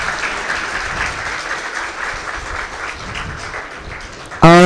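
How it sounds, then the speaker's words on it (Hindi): Applause from a gathering at a Diwali celebration at the Sonipat retreat centre, a steady moderate crowd clapping that fades a little before a sudden loud tonal burst cuts in at the very end. "हमारी उत्तरा दीदी जी आगे जोरदार ताली बजाइए"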